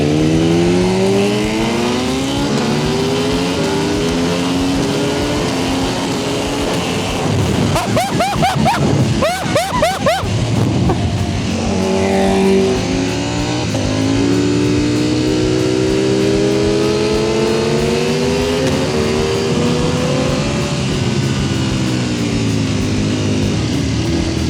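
Kawasaki H2R motorcycle on a race track, its engine revving hard in long rising and falling pitch sweeps, loud and continuous, with a brief crackling burst midway.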